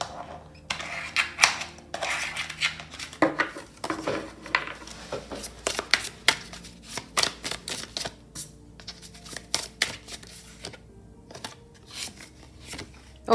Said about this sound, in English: I'm going to shuffle some tea leaf oracle.